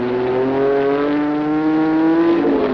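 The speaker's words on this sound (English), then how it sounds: "Mike Spence roars by into first while the Ford is pit bound" A race car at the 1967 Sebring 12 Hours endurance race roars past with a loud, steady engine note that shifts slightly in pitch as it goes by, heard alone without any talking.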